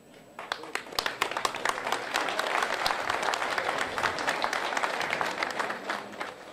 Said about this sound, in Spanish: recibimos un fuerte y caluroso aplauso